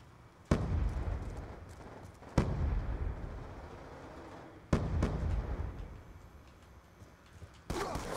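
Shotgun blasts in Black Ops 2 on PC, four loud booming shots spaced a couple of seconds apart, each with a long rumbling decay and little else between them.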